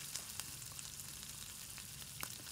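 Onion frying in oil in a pan, a faint, steady crackling sizzle with scattered small pops throughout.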